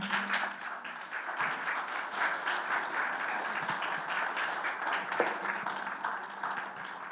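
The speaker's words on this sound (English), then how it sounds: "join me in standing to your feet as we welcome Mr. Unique to the stage with a round of applause" Audience at a graduation ceremony applauding as a speaker is welcomed to the stage, a dense, steady wash of clapping from many hands throughout.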